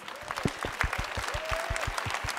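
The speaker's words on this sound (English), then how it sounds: "Let's give them all a round of applause." An audience at an EA press conference at E3 claps steadily, a broad wash of many hands with some distinct nearby claps, sustained throughout.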